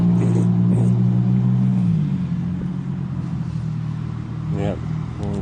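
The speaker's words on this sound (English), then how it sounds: "looks like 2 cars are passing and I will be good to go" Cars pass along a street with a steady low engine rumble and a shifting tone, loud and close at first, then settling into a continuous drone with brief voices near the end.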